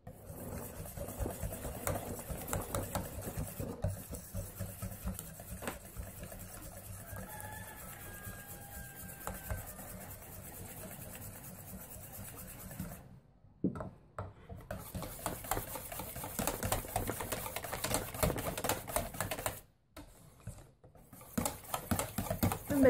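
A close electric mixer whirs steadily as it beats cream for a layered flan cake, with the whirring dropping out briefly twice.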